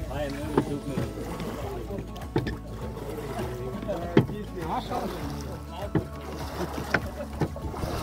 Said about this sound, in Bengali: এই যে এই ঘাট থেকে এই নৌকায় করে আমাদের ওই পারে যেতে হবে